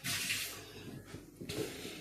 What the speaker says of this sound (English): So we're gonna rinse this first